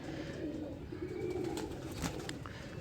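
An Indian breeder pair of pigeons coos softly in low, rolling murmurs, close but faint, over a steady background hiss.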